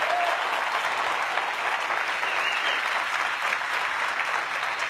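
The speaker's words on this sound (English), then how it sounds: "give them all a round of applause for their hard work" A keynote crowd gives a sustained round of applause for the engineers, many hands clapping in a dense, steady wash at an even level from start to finish.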